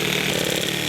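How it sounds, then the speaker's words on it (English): A handheld reciprocating saw cuts through deck wood, a brief buzzing, rapidly pulsing rasp at steady loudness, close up with no voices. "this is a handheld reciprocating saw, so this way I can just go in"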